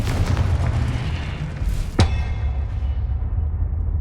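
A Confringo blasting spell in the Hogwarts Legacy video game goes off in a single sharp, loud burst partway through, over a constant low rumbling game ambience with no talk.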